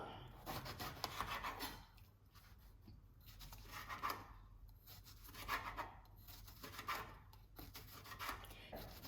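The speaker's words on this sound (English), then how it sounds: "I'm going to cut the eggplant into small pieces, as thin pieces as you can" Knife slicing eggplant into thin pieces on a board, quiet repeated rasping strokes in an uneven rhythm, close and soft with no talking.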